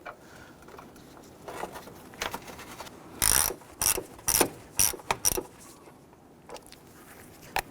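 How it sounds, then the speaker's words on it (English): A ratchet tightens the upper coolant reservoir bolt on a Jeep Grand Cherokee, with a few faint clicks followed by a cluster of sharp, close ratcheting bursts in quick succession, then quiet. "Install the upper coolant reservoir bolt."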